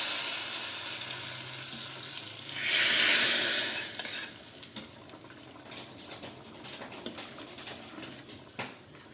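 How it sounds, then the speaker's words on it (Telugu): Hot tempering hits a spinach and sorrel tamarind stew in a pressure cooker on a gas stove, giving one loud burst of sizzling that fades within about two seconds. Stirring clinks and soft scrapes follow. "ఈ తాలింపు అనేది ఇందులో వేసేసుకోవాలి"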